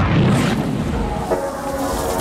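A grenade blast from a Marvel superhero film scene, a loud deep boom with a rumbling, crashing tail that fills the whole two seconds.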